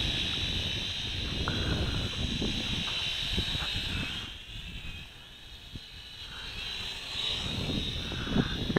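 A JJRC H10 quadcopter drone flying in wind gives a steady, high-pitched electric motor whine with a broad airy hiss that dips briefly midway and then returns, with no talking.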